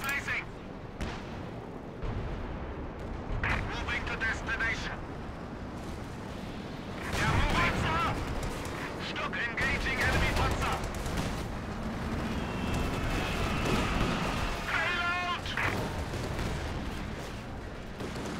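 Tank cannon fire and battle explosions in the Company of Heroes 2 war game, several heavy booms and bursts over continuous rumbling, with people talking over the action.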